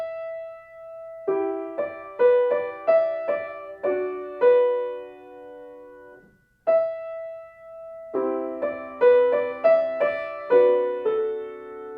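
Solo piano plays the opening of Bartók's Evening in the Country, a slow, singing melody over sustained chords, phrased in two spans separated by a brief pause, clear and close with no talking.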